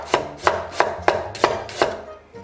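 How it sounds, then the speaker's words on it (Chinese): A kitchen knife slices ginger into thin pieces on a cutting board, six crisp, evenly spaced chops, close and loud, with no voices. "接下来切点姜片儿"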